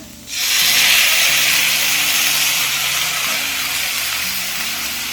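Tomatoes added to sautéed onions in a pan for kara chutney, bursting into a loud, close sizzle and hiss that stays steady and slowly eases off.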